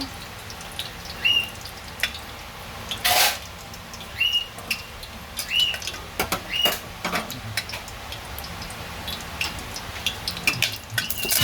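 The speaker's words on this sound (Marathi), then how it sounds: "तेल उठते बघ पटापट." Hot oil spitting in a pan while dodki bhaji cooks at home, scattered sharp pops and crackles over a low hiss, with a few louder spits and clatters spread irregularly across the stretch.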